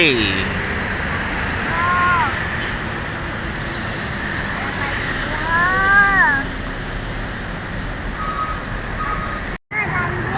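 Damri AKDP intercity buses of South Sumatra pass along the road toward Palembang, a steady roadway rumble with rising tonal engine or horn sweeps, traffic continuous throughout with brief talk.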